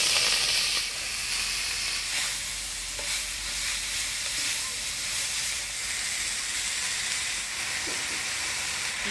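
Chopped leafy greens fry in hot oil with crushed garlic and black cumin, a loud continuous sizzle and hiss with occasional stirring scrapes, close up and steady throughout without speech.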